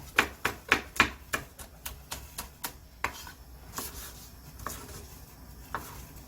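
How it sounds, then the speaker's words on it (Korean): Two Cheongyang chili peppers chopped with a knife on a board, a quick run of sharp close taps that slows and softens into scattered cuts, with no talking. "청양고추 두 개를 쫑쫑쫑 썰어주고요"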